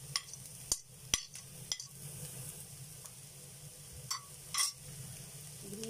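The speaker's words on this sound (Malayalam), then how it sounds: "അതിലേക്ക് ഗ്രീൻ ചില്ലി ഇട്ട് കൊടുക്കുന്നു." Green chillies are added to softened onions sizzling in a pan while cooking a fasooliya-style baked beans dish. A steady close frying hiss runs throughout, broken by several sharp spoon-stirring clicks against the pan, with no talking.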